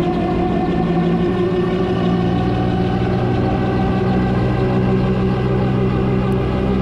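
The engine of an MT-03 gyroplane runs steadily and loud, a dense continuous drone with strong low harmonics and no pauses.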